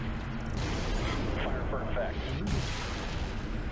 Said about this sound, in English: I have some, like, weird artillery gun.